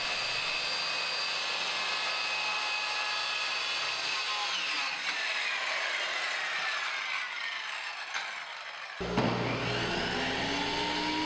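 A circular saw running along a track board, cutting a sheet of MDF laid on 2x4s on a floor, whining steadily throughout with a brief drop and restart near the end.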